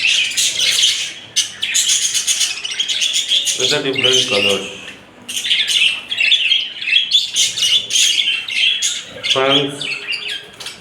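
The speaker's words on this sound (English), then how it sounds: "you can see lots of birds flying over in the cage" Budgies in a cage chirp and squawk constantly, a loud, close, dense chatter of many birds, while someone talks over them in two short stretches.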